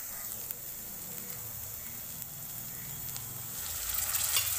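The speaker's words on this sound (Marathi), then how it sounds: "सगळं मटण टाकून घेते मी याच्यामध्ये." Mutton goes into hot, oil-separated masala in a kadhai, giving a steady, close hiss that swells slightly toward the end.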